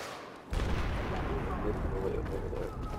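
A Claymore mine explodes in Battlefield 4: a sudden loud boom, then a sustained rumbling roar of blast and battlefield noise with nearby gunfire, close and dense for the rest of the moment.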